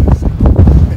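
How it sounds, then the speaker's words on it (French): Strong wind gusts buffet the microphone beside the water in short, heavy low-frequency bursts that dominate the moment. "Avec beaucoup de vent."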